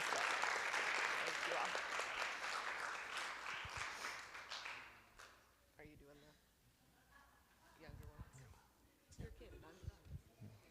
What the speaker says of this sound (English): one more round of applause for these young people here.